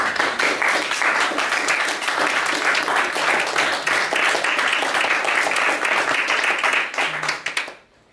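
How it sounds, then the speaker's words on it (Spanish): Sustained applause from an audience at the close of a talk on a thesis program, dense and loud clapping that continues steadily for several seconds before cutting off abruptly near the end. "un aplauso, por favor."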